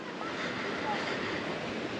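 River water rushes steadily at Karkloof Falls in the Midlands on a cold, overcast day, a continuous broad roar mixed with wind noise on the microphone and no talking.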